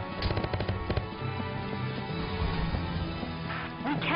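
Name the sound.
gunfire in the video game Valkyria Chronicles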